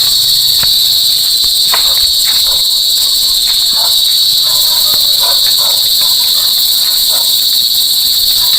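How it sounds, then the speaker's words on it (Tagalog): Steady, dense chirping of crickets beside a farm field near a house, with a continuous high shrill band and scattered fainter insect calls underneath, holding even and fairly loud throughout. "Ayan, kuliglig ang maririnig."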